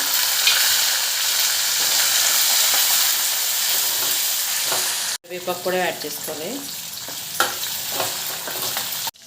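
Ginger, green chili and carrot pieces sizzle loudly and continuously in hot oil with a tempering of chana dal, urad dal, mustard seeds and cumin for rava upma, with a voice speaking over the frying in the latter half.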